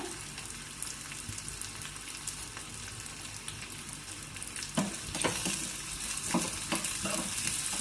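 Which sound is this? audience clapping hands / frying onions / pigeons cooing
frying onions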